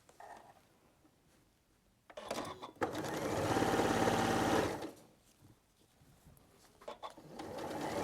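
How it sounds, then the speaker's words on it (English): A sewing machine stitches a cushion in one sustained, close whirring run of about two seconds, framed by quiet handling and faint background sounds before and after. "And then I'm just going to sew this one onto there."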